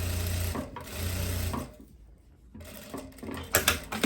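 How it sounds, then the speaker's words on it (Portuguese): Sewing machine stitching a seam on viscose fabric while a jumpsuit is made, running steadily in two close bursts separated by a quiet pause, followed by a few handling knocks and rustles. "Vou fazer essa costurinha aqui."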